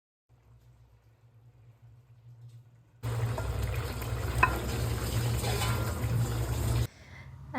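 Fish roe roast cooks in a pan with tamarind water, starting with a faint low simmer, then a loud burst of bubbling, sizzling liquid for several seconds before quieting again.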